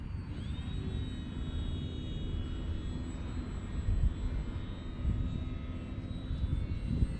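An X-Fly Glastar V2 RC trainer airplane in flight, its motor a sustained whining drone with a tone that sweeps gently as it passes, over a rumbling outdoor background with no talking.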